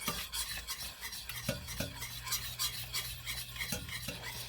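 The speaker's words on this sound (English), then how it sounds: "we're going to add a pinch of salt, and we're going to add a pinch of pepper, and we're going to stir again." Spoon stirring homemade chicken gravy seasoned with salt and pepper, producing soft, faint scraping and rubbing strokes against the pan in an irregular rhythm.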